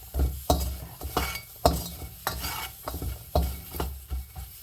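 Ingredients for mackerel chili paste (nam prik pla tu) being dry-roasted in a pan, heard as a rhythmic series of close scraping and stirring strokes against the pan's surface, about seven sweeps, with no talk.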